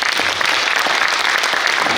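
An audience at a provincial policy forum applauds, a dense, loud, even burst of many hands clapping that carries without pause.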